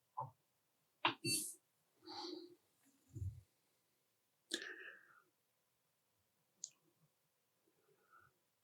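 The door of a Prusa Core One 3D printer clicks as it is opened and closed, with a few sparse, faint close-up clicks and small handling noises in a quiet room.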